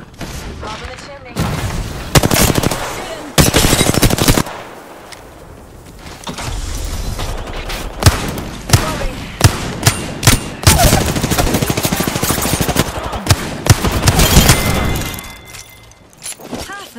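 Bursts of automatic gunfire from an Apex Legends match, Wingman pistol among the weapons, loud and close in repeated volleys with brief pauses, mixed with game effects and voice callouts.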